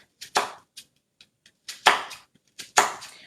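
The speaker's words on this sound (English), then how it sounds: "chop up the onion" A knife chops through an onion on a cutting board, with about eight sharp, separate strikes in an uneven rhythm. Some strikes are short taps and others land harder, all close by with no talking.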